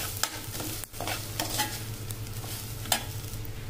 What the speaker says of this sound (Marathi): आपलं उपमाचं मिक्सचर अगदीच छान परतून झालेलं आहे सगळ्या फोडणीमध्ये